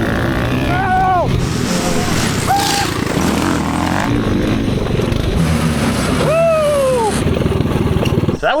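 Cheap $100 Temu powered go-karts race in a backyard, their small engines buzzing loudly with several rising and falling whines as they rev, while excited voices shout over them.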